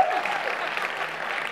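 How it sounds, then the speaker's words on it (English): An audience at a live motivational talk gives itself a round of applause, a steady close wash of clapping with no clear break. "So give yourselves a round of applause."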